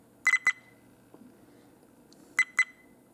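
Two pairs of short, sharp electronic beeps from a Viofo dashcam in a 2024 Mazda CX-50, separated by a quiet pause, clear and close against a low hum.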